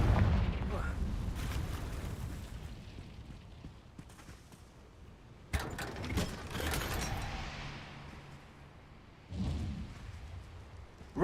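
Fiery Confringo spell blasts from Hogwarts Legacy go off as a string of rumbling explosive bursts and sharp pops amid mechanical clatter, with a voice talking over parts of the action.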